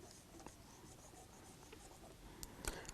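A pen scratches across paper during an accounts exam paper review, soft and close, with faint strokes and small taps over a quiet room hiss and no speech.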